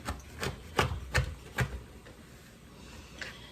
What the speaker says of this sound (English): we're supposed to be finely chopping this